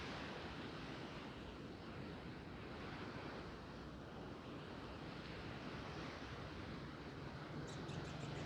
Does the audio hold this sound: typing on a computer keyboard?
no